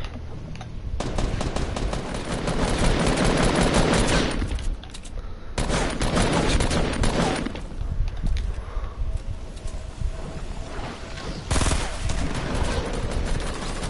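Rapid automatic gunfire from an AR rifle and shotgun blasts in a video game, dense and loud bursts running almost continuously with brief pauses.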